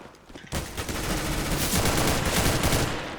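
Dense, loud gunfire from Counter-Strike: Global Offensive bursts in after a brief quiet moment and keeps up as a continuous rattling fusillade for about three seconds.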